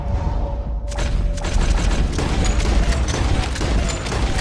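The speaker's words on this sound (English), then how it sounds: "Why did it explode?" A lantern shot in Red Dead Redemption 2 blows up with a loud, sudden boom, and a dense rumble and crackle of burning keep going steadily for several seconds.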